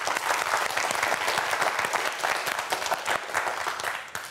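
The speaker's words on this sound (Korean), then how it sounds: "역시 힘내라고 박수 한번 보내주세요." Studio audience at a televised science quiz show clapping to cheer on two student contestants, dense continuous applause throughout, close and lively with no talk over it.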